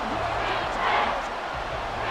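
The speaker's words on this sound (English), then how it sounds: "this crowd doing their best to make a lot of racket" Stadium crowd roar from a simulated NFL 24 Texans versus Lions football game on Xbox Series S, a steady swelling crowd din that peaks briefly, loud and continuous.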